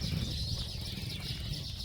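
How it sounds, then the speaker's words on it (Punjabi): Dense, continuous high-pitched chirping from many sparrows, a steady busy chorus with a low rumble underneath. "ਬਹੁਤ ਜ਼ਿਆਦਾ ਚਿੜੀਆਂ ਨੇ ਚਹਿ ਚਹਟ ਲਾਈ ਹੋਈ ਹੈ"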